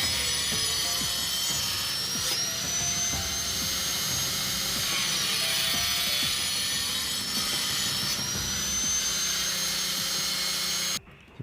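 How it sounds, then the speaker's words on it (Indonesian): An angle cutting grinder slices a pipe for a manual bore well, with a steady, loud, high whine of cutting that runs for several seconds before stopping abruptly. "gerinda potong ataupun mata keramik"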